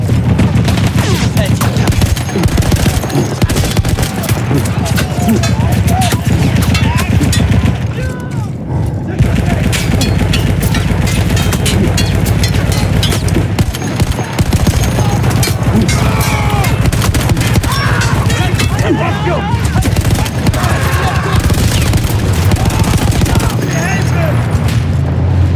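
A mounted gun firing nonstop in the Battlefield 1 video game on a World War I front line, loud heavy rapid bursts with booming explosions and shouted voices, briefly pausing before resuming.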